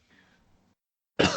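One abrupt, loud cough or throat-clear at the very end, after a near-silent stretch with a faint murmur.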